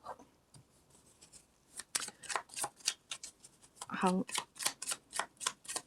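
Tarot cards being shuffled and drawn, a rapid series of close crisp riffling snaps growing steadier in rhythm, with a person's voice heard briefly underneath.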